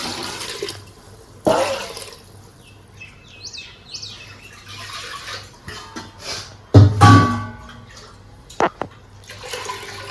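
Water splashes and pours into a cooking pot of rice for mutton biryani in a few uneven bursts, louder near the end, with quiet background and faint bird chirps outdoors.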